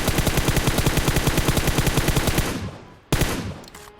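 Loud automatic gunfire at targets in the PUBG Mobile training ground: a fast, even burst of rapid shots for about two and a half seconds, then a brief pause and one more short burst, no talk.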